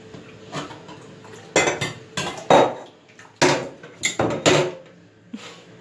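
Dishes and cutlery being rinsed in a kitchen sink, several sharp clinks and clatters of plates and utensils in irregular bursts, close and fairly loud.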